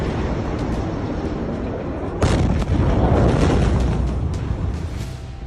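Explosion at a warehouse holding ammonium nitrate in the port of Beirut, Lebanon: a dense, continuous roar with a sudden heavier surge partway through and scattered sharp cracks, loud and rumbling throughout.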